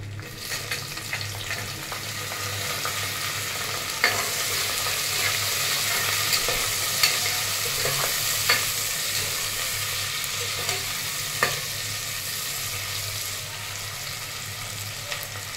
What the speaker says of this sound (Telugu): ఇవి జస్ట్ ఆయిల్లో చూడండి, ఇలా ఫ్రై అవుతున్నాయి కదా